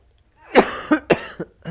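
Several harsh coughs in quick succession, close and fairly loud, from a gamer playing Battlefield 1, with short gaps of silence between the bursts.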